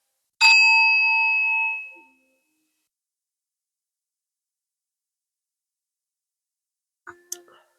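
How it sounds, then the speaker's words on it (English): A hand bell rung once, a clear bright ring that decays over about a second and a half, followed by long silence and a faint brief clatter near the end. "I'm going to ring my bell"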